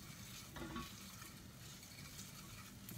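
Stirring rice in a transparent saucepan with a steady sizzle of frying underneath, continuous scraping and rustling at close range with no talking.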